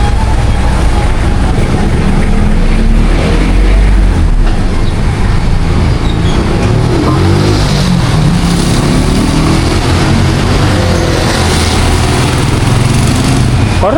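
A misfiring engine runs loud and close with a rough, uneven low rumble that holds steadily for the whole stretch, with no clear talk over it.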